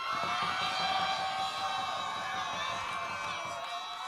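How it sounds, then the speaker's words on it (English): Crowd cheering and whooping at a live racing event during a contestant judging, a steady dense roar of voices with scattered shouts throughout, fairly loud and continuous. "Maybe that's why they're cheering."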